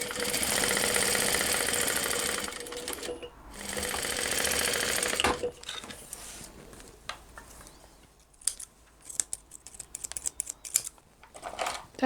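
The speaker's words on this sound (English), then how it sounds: "So I just run a bit of stitching or row stitching down each edge." A sewing machine runs a line of stitching down the pocket edges of a cross-body purse with a loud, steady mechanical whir for several seconds. It pauses and restarts, then gives way to quieter handling clicks and rustles.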